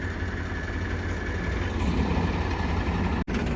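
A tractor engine idles nearby, a steady low, throbbing rumble that holds even and continuous throughout, with one brief dropout near the end.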